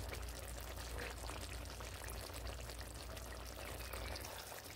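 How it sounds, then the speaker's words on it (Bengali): Raw mustard oil poured into a cooking pan while a bitter gourd dish simmers, a soft steady liquid pour under a faint bubbling, continuous and close, with no talking. "এবার এখানে আমি একটুখানি কাঁচা সর্ষের তেল দিয়ে নিচ্ছি।"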